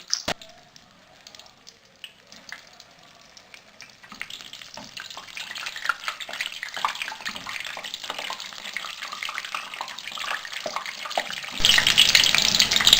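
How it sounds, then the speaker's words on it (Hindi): Vegetable nargisi kababs lowered into hot oil: quiet clicks at first, then a rising, dense sizzle and crackle that swells louder near the end, with no one speaking. "तेल गर्म हो चुका है, अब इसके अंदर मैं ये सारे कबाब डालूंगी।"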